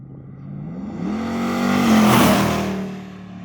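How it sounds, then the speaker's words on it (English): A 1971 Chevy C10 pickup with an LT1 V8 accelerates hard, its engine note climbing steadily and growing louder before easing slightly at the end, close and continuous with no voices. "The noise as well. LT1 sound absolutely brilliant."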